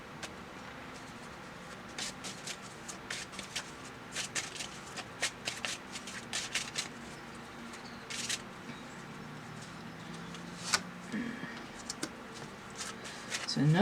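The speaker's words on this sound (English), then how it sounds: "I'll get a couple more cards." Playing cards are shuffled and drawn in a tarot-style reading, producing close, papery riffling and flicking bursts in irregular clusters, with soft handling rustles between them and a faint voice at times.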